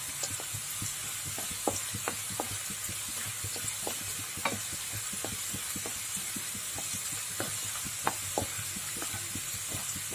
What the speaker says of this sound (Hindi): शाजीरा को अच्छा भूनने के बाद मैं भी कैरेट को अच्छी तरह भून लेती हूँ।